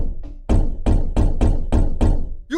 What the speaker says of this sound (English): the knocks came before sunrise.